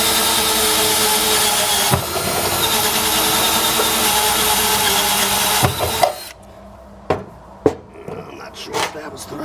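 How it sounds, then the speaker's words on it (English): Power drill boring a hole into an Aluma trailer under light pressure: a loud, steady whine for about six seconds, then it stops, leaving a few sharp clicks and knocks. "Not putting a whole lot of pressure on the drill."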